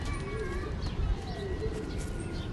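Soft, low pigeon cooing repeats a few times against a steady background hum, close and fairly quiet.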